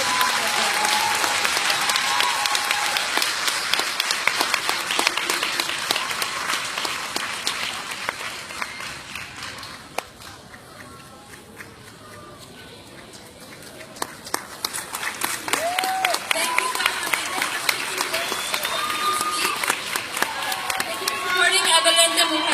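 Loud, sustained audience applause fills a closing ceremony hall, dense clapping with some cheering that dips briefly midway before swelling again; a few voices call out near the end.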